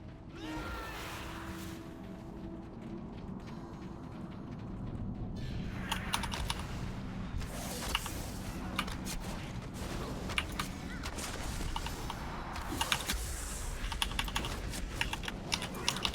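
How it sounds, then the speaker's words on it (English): Computer keyboard typing during a World of Warcraft session, faint at first, then bursts of quick, clattering keystrokes growing busier and louder over a low background hum. "Primary thing I hear is keyboard."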